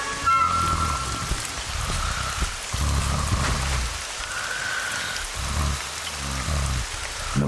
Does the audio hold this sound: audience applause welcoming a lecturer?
no